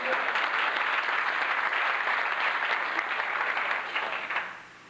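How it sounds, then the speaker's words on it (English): A banquet hall crowd at an awards dinner breaks into loud, sustained applause, a thick even wash of clapping that holds for several seconds before tapering off. "Can we give him a round of applause?"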